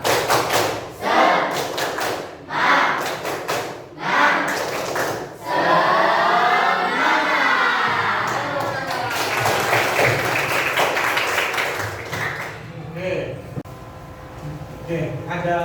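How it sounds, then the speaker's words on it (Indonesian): A group does a rhythmic tepuk semangat spirit clap as an ice-breaker in a classroom session: loud bursts of patterned clapping and thumps, with voices chanting and shouting in between and a rising sung or shouted phrase midway. "Tepuk semangat."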